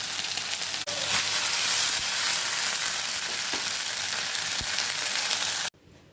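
Spicy masala-coated fish fry sizzles steadily in a pan over medium flame, a loud, continuous crackling hiss with occasional small pops, cutting off abruptly near the end.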